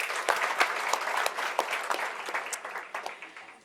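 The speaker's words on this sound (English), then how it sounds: "Please give Ambassador Mpungwe a warm round of applause." At a book launch, an audience gives a warm round of applause for an ambassador. Steady, dense clapping from many hands holds at a moderate level and tapers slightly toward the end.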